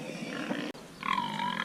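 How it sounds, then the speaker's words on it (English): Sows on a free-range pig farm grunt in a short, close burst of low, rough calls, with a higher-pitched squeal rising near the end. "This is our sows."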